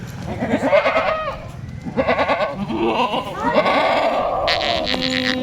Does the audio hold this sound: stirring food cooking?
no